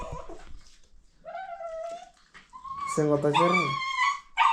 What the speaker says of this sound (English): don't mind the noise from my dog.